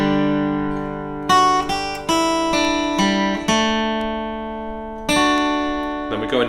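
A guitar rings out the opening chord shapes of a song, several strummed and picked chords, each attacked crisply and left to sustain and fade, played close and clear with no talking.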